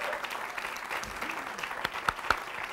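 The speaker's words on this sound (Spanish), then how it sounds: "Un aplauso para ella, por favor." A studio audience on a live Peruvian TV talk show applauds an actress, giving a short burst of steady clapping with a few sharper claps near the end.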